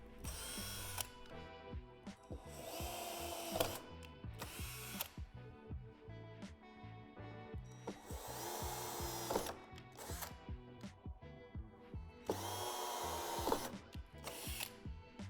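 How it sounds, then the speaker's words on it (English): A cordless drill on its highest torque setting whirs in repeated bursts drilling through metal shed-door divots, each burst grinding loudly before cutting off, with short pauses and clicks in between. "drill through the divots at the top and bottom of the door"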